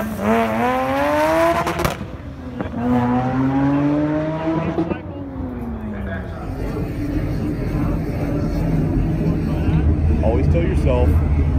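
A 500-horsepower modified Mini Cooper S engine at a drag strip revs hard with rising and falling pitch sweeps, loud and close, then settles into a steady rumbling idle.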